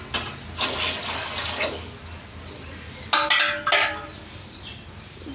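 Water runs and splashes into a cooking pot set on a gas stove for boiling chowmein noodles, with a steady pour early on, then louder bursts of flow near the end, under light background noise.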